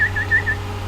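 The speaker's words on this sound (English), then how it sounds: "I'm really good at whistling." A person whistles a short run of bright, clear notes, four quick tones in a row, over a steady low hum in the room.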